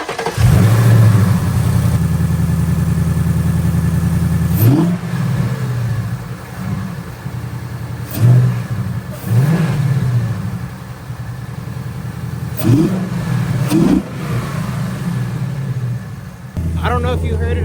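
Ford Mustang S650 engine cranks over and settles into a loud idle, then takes several sharp throttle blips that rise and fall in spaced bursts, recorded close to the car.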